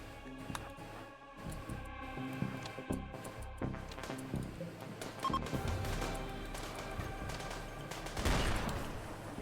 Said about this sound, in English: Oh, we sniped the guy?